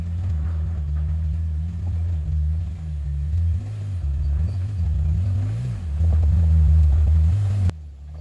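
An off-road Jeep's engine rumbles low and steady on a trail ride at AOAA, swelling as it climbs and revving harder near the end before cutting off abruptly.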